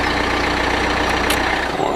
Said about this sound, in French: Bon, j'arrête le moteur.